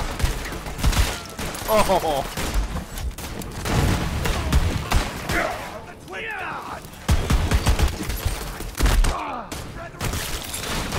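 Rapid bursts of gunfire from Borderlands 3 fill the stretch, with repeated shots and booms over a busy game mix, and a player's voice talks and exclaims throughout.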